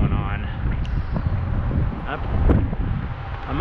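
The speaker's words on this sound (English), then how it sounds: "Ooh, that wind is intense." Strong wind buffets the microphone in a constant roaring rush, with a few faint thuds and light movement noises mixed in.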